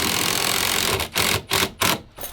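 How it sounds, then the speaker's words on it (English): Power driver sinking 6-inch Torx head screws through trim material and foam, a continuous whirring drive followed by three short bursts as the screws are seated delicately. "Got to screw these in super delicately, not to suck it too tight."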